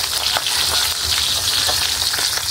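Fish fries in hot oil in a pan, a loud, continuous crackling sizzle with popping bursts close by and no talking.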